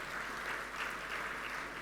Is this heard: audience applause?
yes